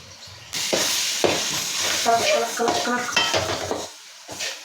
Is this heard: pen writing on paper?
no